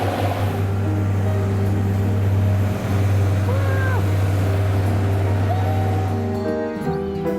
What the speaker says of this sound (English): Now he has to take a ferry to cross it into Liverpool.